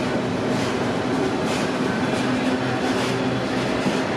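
A freight train rolls past on a smoky day, a steady, loud, close rumble and rattle of railcars that continues without a break and has no talking.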